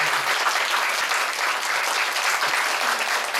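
Steady, dense applause from a lecture audience at the close of an anthropology talk and Q&A session, continuous and fairly loud throughout with no voices over it.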